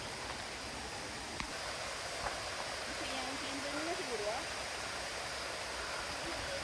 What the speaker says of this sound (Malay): The mini waterfall.